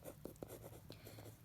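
Marker or chalk writing a compound-interest formula on a classroom board, soft scratchy strokes in short bursts, quiet and close with a low background hum.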